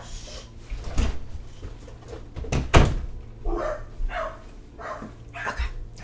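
A dog barks several times in a room, with thuds and knocks like a door being opened and handled. There are faint, intermittent noises between the barks.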